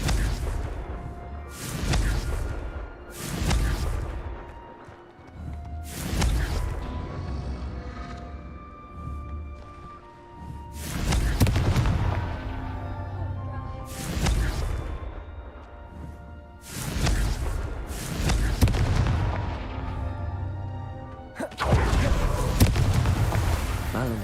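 Confringo fire spells go off in a Harry Potter video game as repeated booming blasts, roughly eight to ten in a row with swooshing tails. Music-like tones run underneath and a voice is present in places.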